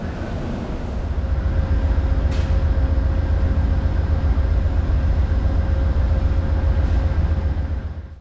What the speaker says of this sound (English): the train pulls out of Denver to continue west towards the Rockies